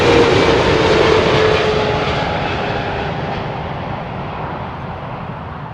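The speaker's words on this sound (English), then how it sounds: "American Airlines, 777 from Los Angeles" An American Airlines Boeing 777 airliner at London Heathrow roars past loudly, its engine whine and rumble slowly fading as it moves away.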